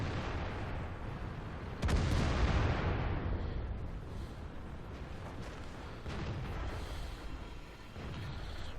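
In the World of Tanks video game, a tank cannon fires one heavy boom, and a long rumbling roar trails off under steady battle noise.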